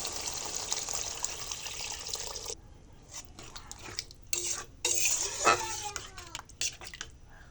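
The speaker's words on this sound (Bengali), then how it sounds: "এবারে দিয়ে দেবো পরিমাণ মতো পানি" Water goes into a cooked, well-fried cumin-paste masala for a winter vegetable curry with soybean and cauliflower: a loud rushing hiss for a couple of seconds, then close clinks and scrapes of stirring in the pan.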